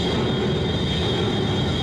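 Jammed chain and roller on the chopstick carriage of a SpaceX Starship launch tower, giving a loud, steady grinding rumble with a sustained metallic squeal throughout a short moment.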